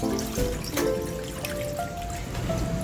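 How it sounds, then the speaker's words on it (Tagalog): Water pours steadily into a cooking pot for sinigang na bangus, a continuous trickling splash, close and alone. "maglalagay tayo ng water dito sa ating"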